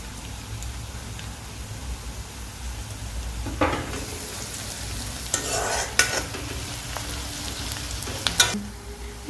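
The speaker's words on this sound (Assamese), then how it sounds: "আমাৰ পিঁয়াজটো অলপ ৰঙচুৱা হৈছে" Onions fry in a pan with a steady soft sizzle, while a utensil scrapes and knocks against the pan in several brief bursts of stirring, close by.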